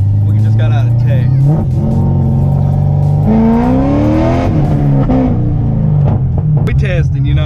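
A Corvette at a quarter-mile streetcar takeover revs hard and launches, engine pitch climbing and dropping through loud sustained roaring, close and dominant throughout.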